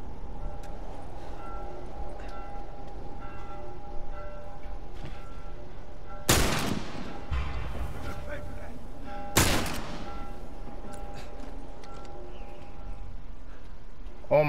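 Two loud, isolated hunting rifle shots in The Last of Us, a few seconds apart, over a steady humming game ambience.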